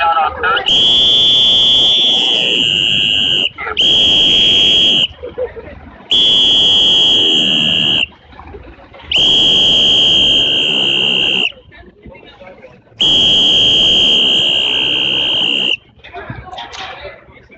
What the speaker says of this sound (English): Always keep a whistle. It's a good safety device to draw attention to yourselves.